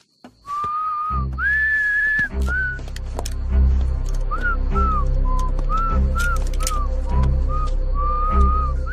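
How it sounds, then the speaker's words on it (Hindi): A man whistles a long, shrill melody of sustained notes and short rising phrases, loud and close, over a deep steady rumble of background noise. "सीटी क्या मार रहा है?"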